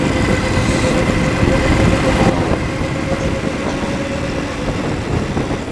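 Motorcycle fitted with a bamboo exhaust and a bypass, with a two-way setup, running steadily. Broadband, continuous mechanical noise dominated by gearbox whine rather than engine note, with a slight change partway through.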